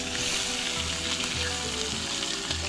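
Freshly caught trevally frying in a pan at a tropical island camp, a steady, close, loud sizzle with crackling oil throughout.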